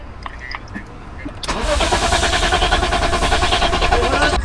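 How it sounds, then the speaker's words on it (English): A BMW E46 engine cranks briefly and then catches, settling into a loud, steady idle close by after a quiet moment with faint talk. "I'm trying to start your car"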